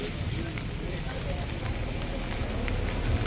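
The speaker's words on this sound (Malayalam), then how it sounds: "നല്ല രീതിയിൽ മഴയുണ്ട് കേട്ടോ" Rain pours steadily onto a surface nearby in Samse village, Karnataka, a constant broadband patter with faint voices murmuring underneath.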